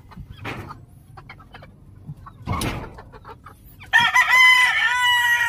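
Farmyard hens cluck in scattered short bursts over a quiet background, followed by a loud, close rooster crow that fills the final second and a half.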